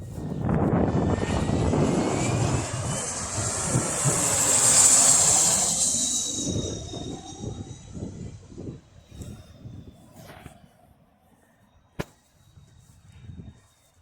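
A Cessna light aircraft coming in to land passes close by with a loud broad engine and propeller roar that swells, peaks and fades away over several seconds. Gusty wind buffets the microphone, and a sharp click sounds near the end.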